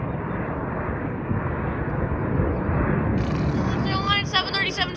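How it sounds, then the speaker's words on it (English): A Boeing 737-700 jet airliner with single winglets, flying to Las Vegas, roars past near an airport in San Diego, a broad, loud engine rumble, with a voice talking over it toward the end. "737-700 single winglet, service to Las Vegas"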